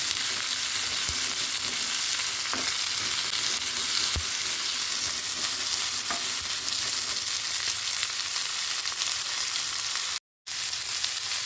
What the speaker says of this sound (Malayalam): ഇങ്ങനത്തെ ചട്ടിയിൽ വറുക്കാൻ നല്ല സുഖമാണ്